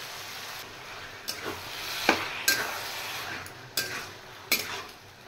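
Boiled banana flower added to frying spices in a pan, with a quiet background sizzle and five or six sharp spoon clanks against the pan as it is stirred.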